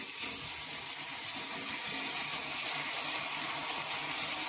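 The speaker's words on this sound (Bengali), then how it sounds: "অল্প একটু জল দিয়ে নিচ্ছি" A little water is poured into a pan of frying spices for a thin fish curry. A steady, hissing gush carries evenly from start to finish, close and alone, with no voices.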